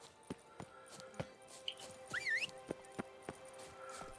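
Roach, a horse in a video game, clip-clops at a steady walking pace with evenly spaced hoof strikes, quiet, with a brief neigh and a whistle-like sound partway through and no talking.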